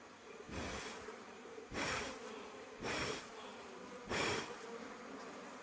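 Honeybees buzzing around a freshly built honeycomb full of pollen, a soft hum broken by four regular louder swells of buzzing, close and without talk.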